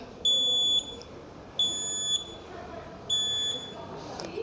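An IR sensor project's buzzer gives three loud, evenly spaced electronic beeps, each about half a second, over faint background noise.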